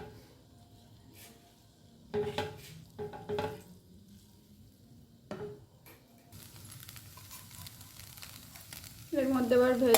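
Drained, rinsed Maggi noodles tipped into a hot frying pan with vegetables, soft sizzling with a few clanks and stirring bursts, then a louder sizzle rising at the end, no talking.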